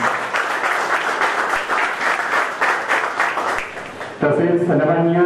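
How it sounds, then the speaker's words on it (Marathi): An audience at an award ceremony applauds with dense, loud, continuous clapping, which ends abruptly as a sustained musical tone begins. "त्यांच्यासाठी जोरदार टाळ्या वाजवा."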